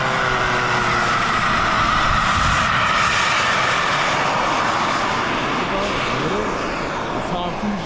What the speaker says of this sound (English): Jet taking off, here we go.